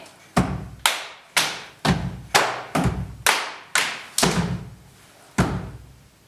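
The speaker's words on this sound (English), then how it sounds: "a right stamp with a short break before it" Heavy stamps in a foot-stamping rhythm exercise land nine times as single close, loud thuds, each with a short ringing decay. Most fall at an even pace, with a slightly longer break before the last.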